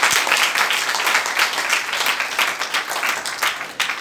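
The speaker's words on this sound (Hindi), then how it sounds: "जोरदार तालियां बजाएंगे खुदावंद के लिए।" A church congregation applauds loudly for the Lord during a sermon, a thick, continuous wash of many hands clapping close by with no talk over it.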